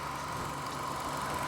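A 2017 Nissan Grand Livina 1.5 Autech with automatic transmission idles steadily, a smooth, even low hum with no roughness or knocking, heard close and alone.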